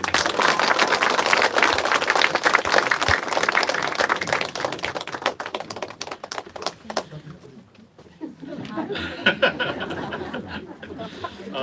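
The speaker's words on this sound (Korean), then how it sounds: "우리 인사하고 들어갈 때 크게 박수해 주시겠습니다" A church congregation at a Sunday service claps loudly in a dense, crackling burst of many hands. The clapping thins briefly midway, then picks up again with scattered voices underneath.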